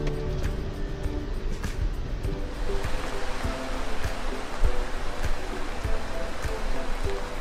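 River water at the confluence of the Rio Hondo and the Rio Grande, a steady rushing flow with faint clicks and splashes, moderately loud and continuous with no voices.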